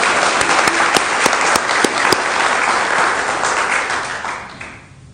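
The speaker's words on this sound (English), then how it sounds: "So why don't we just give a huge round of applause so Bob can hear." A church congregation at a Sunday service gives a loud round of applause for a 90th birthday, dense clapping with a few sharp individual claps at first, then thinning and fading out toward the end.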